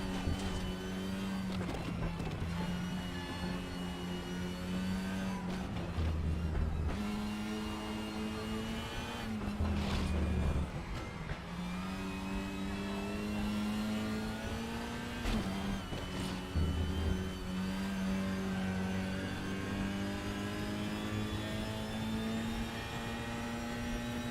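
Race cars in the sim racing game RaceRoom run through an online race, their engines droning loudly and continuously with shifting pitch as they brake, downshift and accelerate out of corners, the sound unbroken and without talk.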